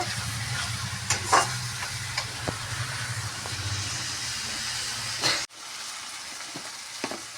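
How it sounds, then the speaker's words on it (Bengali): Spice paste for chicken curry frying in a pan gives a loud, continuous close sizzle and hiss with occasional stirring scrapes, then drops sharply to a quieter simmer near the end. "মশলাটা আমি কষিয়ে নিয়েছি"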